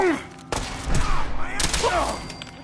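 Gunfire in the video game Fallout 4 during a fight with mercenaries: a couple of sharp, loud shot bursts with booming tails and whooshing effects, close and dense over game noise.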